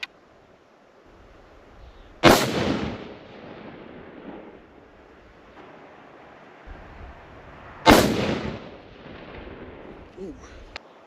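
Two sharp, loud rifle shots from a caliber billed as over-inflated, roughly five seconds apart, each a crisp crack with a short echoing tail over low outdoor background noise.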